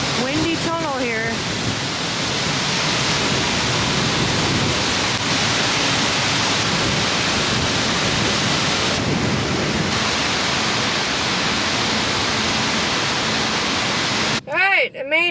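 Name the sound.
wind blowing through a tunnel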